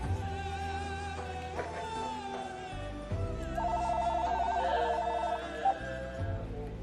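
Telephone ringing indoors, a steady electronic ring tone repeating loudly and continuously with tonal pulses, no one speaking over it.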